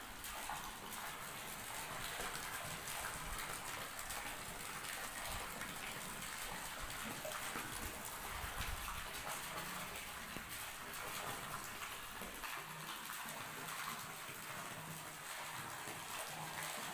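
Water gushes steadily into a newly built private swimming pool with a smooth, crack-free finish, a continuous broad rushing and splashing that stays even and fairly close throughout, with no talk over it.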